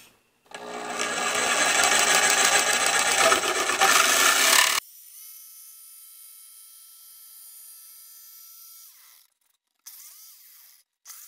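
A jigsaw cuts a replacement wooden gunwale or deck plate for an old canoe rebuild, giving a loud, steady buzzing rasp for about four seconds that stops abruptly, followed by a quieter lingering hum and brief faint noises.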